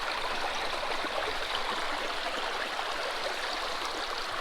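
Water of the Kern River flows steadily over gravels in a continuous rushing wash, close and even in level, with no voices.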